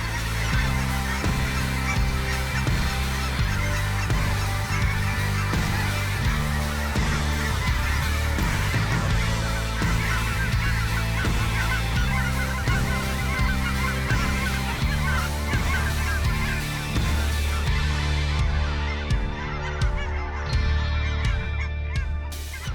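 A large flock of cackling geese honks continuously in Oregon, a dense overlapping chorus of loud, close calls.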